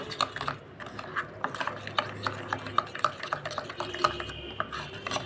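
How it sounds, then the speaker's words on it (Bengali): Spice masala being stirred with a little water and salt for egg jhal muri, a spoon clinking and scraping against a bowl in a quick, steady rhythm, close and fairly quiet. "অল্প সামান্য একটু জল দেব দিয়ে আমি ভালো করে মশলাটাকে মিশিয়ে নেব"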